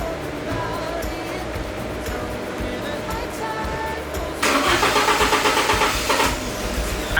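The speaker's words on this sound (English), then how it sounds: "Every time I want to start the car from cold, I have to unplug the idle air control valve." A car engine is cranked from cold with the idle air control valve unplugged, ticking along quietly before a loud, rough, pulsing burst of engine noise takes over near the end.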